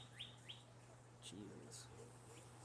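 A bird chirps outdoors, giving a few short, faint high tweets over a steady low hum, with a brief murmur partway through.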